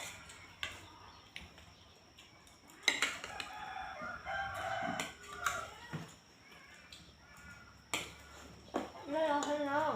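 A rooster crows near the end over a busy household morning with clattering dishes, scattered bird calls and people talking throughout.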